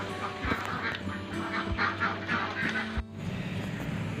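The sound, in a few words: laying ducks quacking on a duck egg farm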